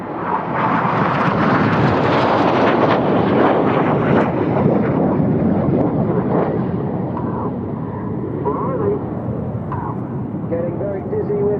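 At the RAF Cosford Airshow, an aerobatic display aircraft flies a routine overhead, producing a loud continuous engine roar that shifts in pitch as it manoeuvres, with a commentator talking throughout.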